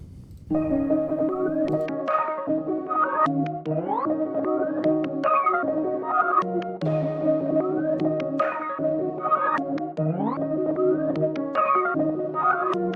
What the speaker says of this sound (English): This is a soft piano from Labs